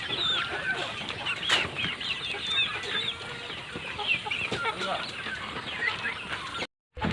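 Young desi Rhode Island Red chickens, 77 days old, cluck softly while eating cut grass, a busy scatter of calls from a flock nearby, with a voice speaking faintly now and then.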